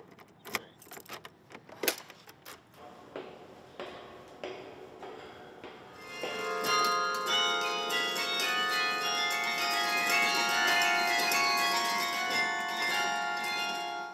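Metz Grand Carillon bells at Indiana University: sparse clanking strikes and taps at first, then a full sustained ringing of many bells swelling loud and continuous through the second half.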